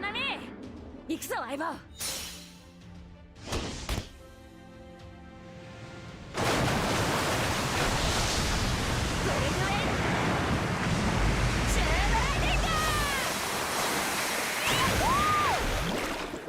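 Ocean surf rolls steadily onto a beach in the video game Fate/Grand Order, a broad continuous wash following a few seconds of game sounds and voices at the start.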